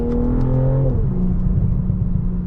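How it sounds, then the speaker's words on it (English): A stock BMW M340 exhaust drops from a steady engine drone as revs fall, then lets out low rumbling burbles and crackles, heard close from inside the car without talking. "I don't know if y'all can hear these burbles, but these stock burbles are like actually decent as hell"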